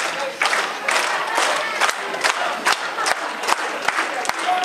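A wrestling crowd cheers and shouts loudly and steadily for wrestler Zane Stevens at a live match in Tennessee, with sharp claps and stomps punctuating the roar.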